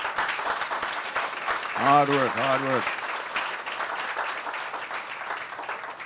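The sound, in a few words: audience applause for the board members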